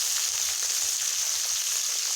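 Whole cumin seeds, onion and chilli sizzle and crackle steadily in hot oil in a pan, a close continuous fry with faint rhythmic low thumps beneath, no voices.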